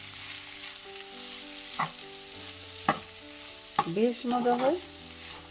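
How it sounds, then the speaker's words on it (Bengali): Sliced bitter gourd and chopped onion fry in a pan with a continuous sizzle and occasional stirring clatter, while a person speaks briefly over it. "ওর সাথে দিয়ে দিলাম একটু পেঁয়াজ কুচি"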